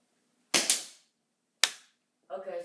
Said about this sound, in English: So I'll be shooting from way back there, about a good 20 feet away.